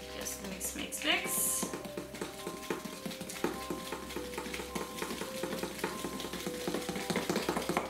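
Icing sugar being stirred into royal icing in a bowl: a soft scraping and swishing that keeps going, with clinks of a utensil against the bowl and quiet background tones throughout.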